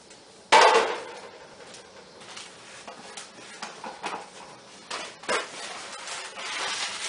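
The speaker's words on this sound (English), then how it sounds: "I'm going to move our pan out of the way." Pan being shifted aside during shaving cream fabric dyeing, one sharp knock near the start followed by faint shuffling and light handling noises.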